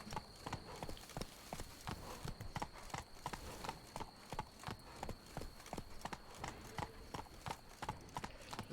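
The horse Roach in a video game, hooves clip-clopping in a steady, quick rhythm of close, crisp strikes that continues throughout without pause.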